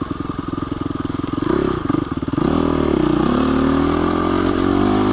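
A motorcycle with loose, unsettled suspension rides close and loud along a one-way street, its engine note rising and shifting steadily over five seconds with some rattling clatter.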